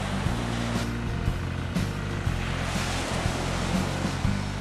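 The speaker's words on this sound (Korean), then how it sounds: "왕조의 향수에 흠뻑 빠진 저를 깨운 것은 파도 소리였습니다." Waves on the Vietnamese coast wash in with a steady broadband roar, while a low rumbling engine-like drone persists underneath throughout.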